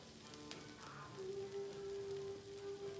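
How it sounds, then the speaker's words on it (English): Spam fried rice, made with the new turkey Spam, sizzles steadily in a skillet, a continuous close hiss with scattered pops and a faint tonal hum underneath. "It's popping and sizzling."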